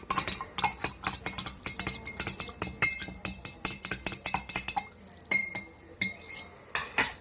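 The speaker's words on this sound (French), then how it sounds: "Là, je vais mélanger la solution" A spoon stirs colloidal silver solution in a glass container, making rapid, steady clinks and taps for several seconds that then slow to a few scattered knocks, close and fairly quiet with no talking.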